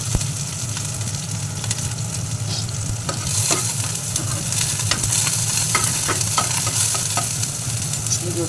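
Vegetables with green chilies frying and being stirred in a pan, a steady loud sizzle with scraping stirring strokes running throughout, no talk.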